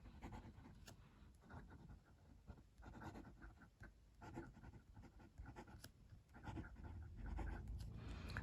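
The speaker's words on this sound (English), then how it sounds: "Writing sample." A Hongdian A6 fountain pen with a fine nib writing on paper, a faint, close scratching of strokes in short bursts with brief pauses.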